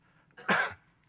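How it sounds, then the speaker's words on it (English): A single man gives one short, rough cough in a quiet lecture hall, heard close and alone. "And pardon my cough"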